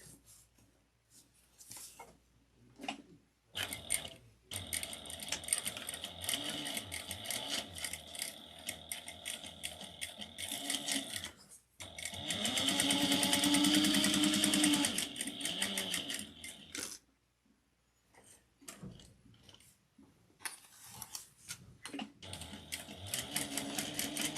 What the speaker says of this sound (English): we're going to top stitch this at 1/8 of an inch around